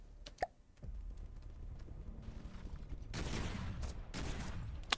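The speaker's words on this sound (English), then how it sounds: "Firing at the bomber as well as that goes over." Cannons fire at a passing bomber in the From the Depths game, a burst of sharp gunfire reports clustered mid-clip over steady engine drone, with an earlier lone shot.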